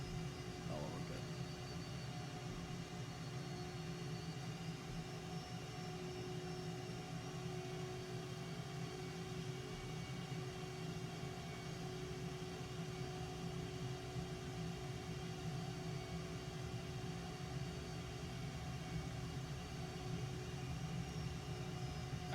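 An F-117A Nighthawk jet idles on the ground in Microsoft Flight Simulator 2020, a steady low hum and whine held evenly throughout, faint and unchanging.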